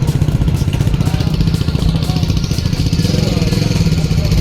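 A big motorcycle engine rumbles and throbs up close at India Bike Week, a loud steady pulsing idle with people talking over it.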